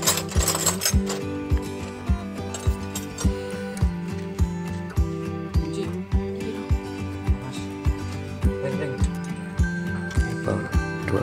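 Ratchet wrench loosening 12 mm bolts on the engine of a 2019 Daihatsu Luxio, steady repeated clicks roughly every half second under a loud, continuous mechanical hum.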